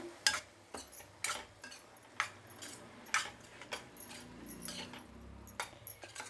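Jackfruit pieces being mixed with chili powder, pepper and salt, with a run of sharp, irregular clinks of a spoon against a bowl at close range and no talking.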